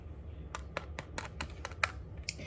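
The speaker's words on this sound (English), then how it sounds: "It definitely had a crack to it." Knife cutting into the crisp, puffed crust of a chicken pot pie, heard as a close series of sharp crackling taps over several seconds with no talking.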